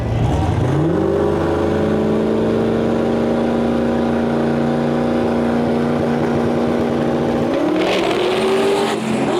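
A no prep drag race car launches and makes a pass, its engine roaring loud and sustained with a rising, held pitch before lifting off near the end.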